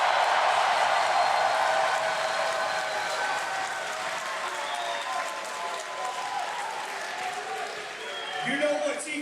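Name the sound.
audience applauding and cheering for a wrestler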